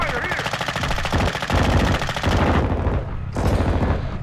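Enemy gunfire in a Call of Duty Modern Warfare 2 Domination match: loud, dense bursts of rapid automatic fire roll on continuously with overlapping shots and brief swells.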